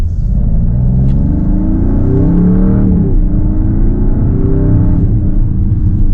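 A 2026 Dodge Charger R/T sedan accelerating in sport mode, its engine loud and close with rising revs and clear gear changes near three and five seconds, a deep throaty rumble with no talk over it.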